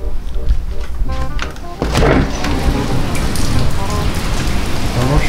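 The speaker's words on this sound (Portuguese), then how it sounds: "Tá uma chuva, hein?" Steady rain drumming on a surface, dense and close, with a few dull thunks and some quiet background voices mixed in.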